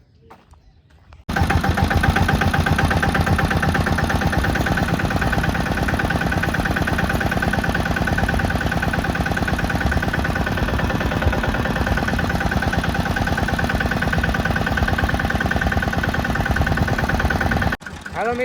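A tractor engine idles at a steady, loud, even chug close by, starting after a brief quiet moment and cutting off near the end.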